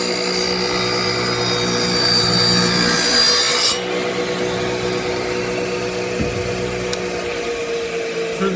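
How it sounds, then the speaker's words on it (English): A radial arm saw cuts through wood with a loud, close, rasping whine over the steady motor drone, then the cut stops abruptly and the motor keeps humming on its own. "That's where your hand should be going to make the radial arm saw move"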